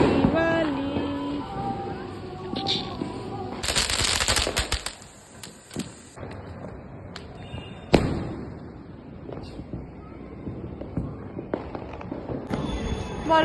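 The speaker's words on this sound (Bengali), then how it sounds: "বলো মা, কেমন ফাটালে বাজি?" Firecrackers bursting on a rooftop during Kali Puja and Diwali celebrations: loud, sharp cracks and rapid crackling bursts, some close and some farther off, in irregular clusters, with people talking in the background.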